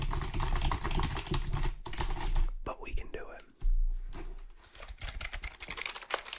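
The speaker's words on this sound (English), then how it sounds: "I'm kind of done with the keyboards for now." ASMR typing on computer keyboards: dense, rapid clicking and tapping of keys that pauses briefly midway, close and crisp, with soft whispered talk between the keystrokes.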